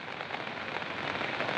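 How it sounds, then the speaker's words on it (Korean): Heavy downpour in the Jeonbuk region of South Korea under a heavy rain warning, a steady, dense hiss of rain hitting surfaces, fairly soft and even throughout. "현재는 빗줄기가 점점 굵어지고 있는데요"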